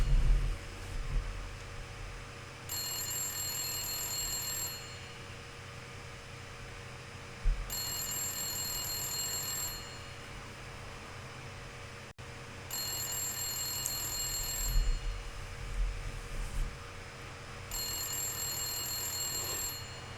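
A telephone in the video game Blacksad rings in four long, regular bursts separated by pauses, over a low background hum with no talking.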